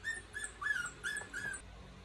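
A small puppy whimpers faintly with thin, high whines repeating in short cries, quiet and alone in an indoor room.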